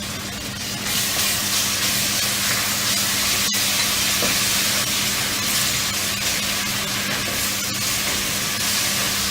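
Ginger garlic paste frying with browned onions in a pan for pav bhaji gives a steady, close sizzling hiss that holds evenly throughout with no talking.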